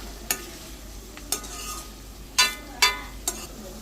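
Onions frying in a pan with a pinch of salt, stirred in five sharp, close scraping strokes over a soft, steady sizzle, for a spicy chicken fry.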